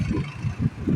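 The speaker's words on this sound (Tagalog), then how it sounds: "Traffic." A car engine idles and rumbles low in road traffic, a close, steady throb with slight swells and no voices.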